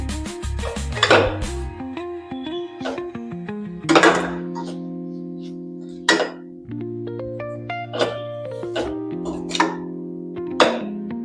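Garam masala being sautéed in a metal cooking pan: a spoon clanks and scrapes against the pan, with ringing metallic knocks at irregular intervals, close and clear.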